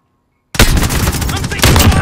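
Dense gunfire bursts from Call of Duty: Modern Warfare multiplayer erupt suddenly after half a second of silence, loud and continuous with overlapping shots and a heavier surge near the end.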